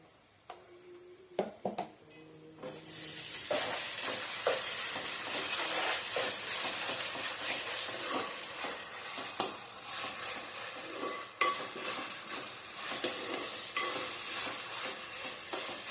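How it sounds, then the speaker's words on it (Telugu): Ginger-garlic paste is added to onions frying in a pan for an Andhra mutton curry, starting with a few clanks and then loud, steady sizzling with scraping stirs close up. No one speaks. "అల్లం, వెల్లుల్లిపాయ పేస్ట్ అయితే వేస్తున్నాను 2 స్పూన్లు"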